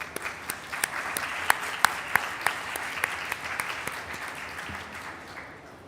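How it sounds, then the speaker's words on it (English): A conference audience applauds the panelists, a steady wash of clapping with a few sharp, close claps standing out, slowly fading toward the end. "I invite you all to give a big hand of applause to our great panelists."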